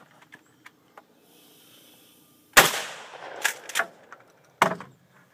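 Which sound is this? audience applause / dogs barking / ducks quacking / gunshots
gunshots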